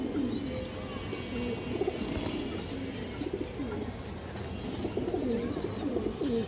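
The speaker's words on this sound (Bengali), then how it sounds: "এই দেখেন খুবই হাই কোয়ালিটির কবুতর দর্শক।" High-quality pigeons cooing near the listener, repeated soft rolling coos in an irregular rhythm over a low background hum, with a few faint chirps mixed in.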